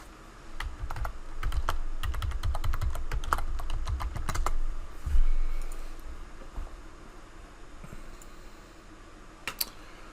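An access token is typed on a computer keyboard in a rapid run of close, crisp key clicks that slow to a few scattered taps.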